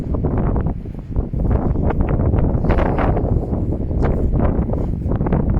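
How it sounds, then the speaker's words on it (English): Strong wind roars continuously and loudly, buffeting close against the microphone with steady rumbling gusts and no pauses. "it's very cold now, very windy"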